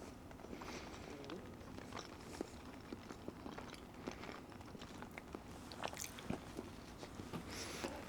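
Someone chews cinnamon bread close to the mic, with quiet, irregular soft crunches and mouth clicks over faint room noise.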